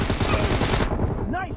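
An M762 assault rifle in Battlegrounds Mobile India fires a fast automatic burst for under a second, loud and close, then cuts off into quieter game sounds.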